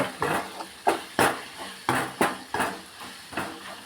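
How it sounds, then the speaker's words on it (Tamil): Tomatoes being sautéed in a pan, heard as a series of sharp metallic clinks and scrapes of a utensil against the pan, about a dozen irregular strikes close by with no voices. "தக்காளி நல்லா வதக்கிடுச்சு பாருங்கள்"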